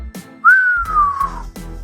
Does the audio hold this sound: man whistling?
yes